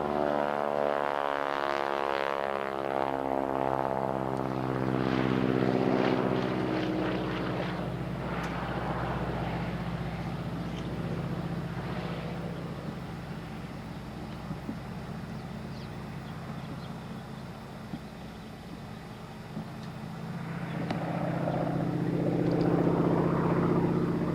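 A propeller-driven crop duster airplane drones overhead, its engine rising loud and close, then fading and swelling back as it passes and turns steeply over the field.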